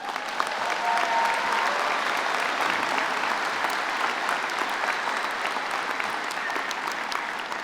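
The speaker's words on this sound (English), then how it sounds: "Another round of applause." Dense, sustained applause from a large audience at a University of Calgary spring convocation ceremony, an even wash of many hands clapping continuously throughout at steady loudness.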